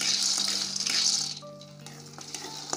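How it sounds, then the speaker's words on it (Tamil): Peanuts fry in a hot pan with a steady sizzle and light rattling and stirring, close and moderately loud, and a faint hum runs beneath it. "வானல் சூடான உடனே மல்லாட்டை போட்டு மல்லாட்டையை வறுத்துக்குங்க."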